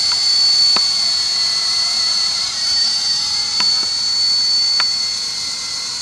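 A Heli Max Novus 200 FP or Blade SR 120 RC helicopter hums with a steady high-pitched rotor whine, close by and continuous, with a few faint clicks and no talking.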